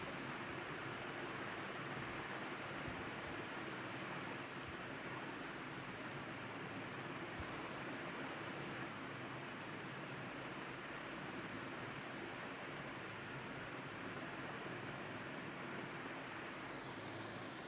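Crispy potato snacks fry in oil over high heat, giving a steady, even rush of sizzling noise that runs on unchanged throughout.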